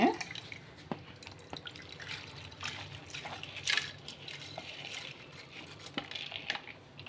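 Water and soaked lentils are poured into a mixer jar for dosa batter, with soft splashes, drips and light clinks, fairly close and quiet.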